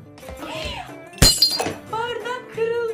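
A drinking glass shatters once, loud and sharp, in a comedy skit, breaking into the middle of excited speech and followed by more talking.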